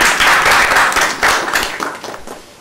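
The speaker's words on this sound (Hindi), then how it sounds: "ताली बजाओ सब" Audience clapping during a spiritual discourse gathering: a loud, close burst of hand claps that swells and then tapers off into scattered claps.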